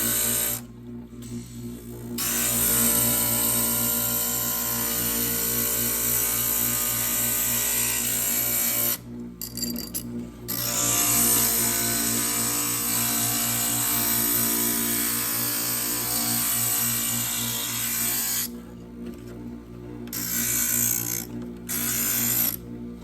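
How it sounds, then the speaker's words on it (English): A stained glass grinder shapes the edges of glass pieces for a sun catcher, a steady loud whirring grind with a rattling texture that runs continuously, broken by a few brief pauses as the piece is lifted away. "So now I'm just going to grind down the rest of it."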